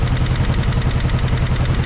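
The engine of a 1964 Jeep CJ5, previously stuck, idles steadily up close with a fast, even chuffing pulse and no other sound over it.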